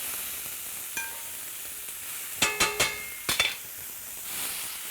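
Onions and soy curls frying in a pan under a steady low sizzle. A cluster of sharp utensil clicks and scrapes lands near the middle, close and moderately loud, with no talk.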